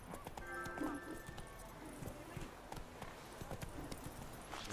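Roach the horse trotting in The Witcher 3, brisk repeated hoofbeats and a brief whinny-like tone amid game music, while someone speaks over the action.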